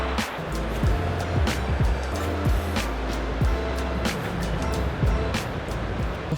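A stretch of the Green River flows in a steady broad rush close by, with wind and low rumbles mixed in and no voices.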